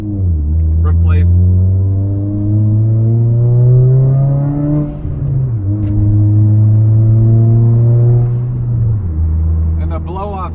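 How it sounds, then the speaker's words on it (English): Turbocharged Toyota Corolla engine while driving, a loud droning rumble that climbs steadily in pitch through the gears, with short sharp hissing bursts from the blow-off valve between shifts. "the blow-off sounds have to be my favorite on this car."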